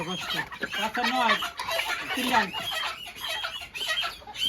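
A flock of chickens on a poultry farm clucks busily, overlapping calls rising and falling at close to middle distance.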